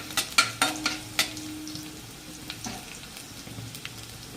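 Garlic pieces fry in hot oil, opening with several sharp clinks of a spoon against the pan before a low steady sizzle carries on with a few faint stirring taps, no voices.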